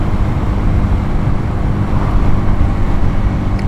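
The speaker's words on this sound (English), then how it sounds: "Completely pushing this motorbike to the limit just by doing this." A Honda C125 motorbike engine drones steadily up close while riding, a continuous low rumble mixed with rushing air.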